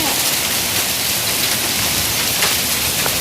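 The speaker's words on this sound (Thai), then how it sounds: "ตกเป็นน้ำแข็งเลยค่ะ ตกแรงมากดูนะคะ" Heavy hail from a tropical storm pounds down in a dense, unbroken roar of impacts, loud and close, with no voices.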